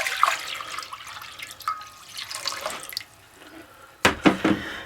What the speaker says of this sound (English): To a pot, we're going to add 2 quarts of water.